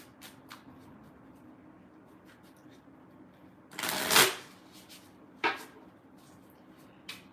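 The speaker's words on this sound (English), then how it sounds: "Let's go ahead and pull cards for Capricorn," A tarot deck is shuffled in a single brief, close riffle, followed by a couple of light card taps against a quiet background.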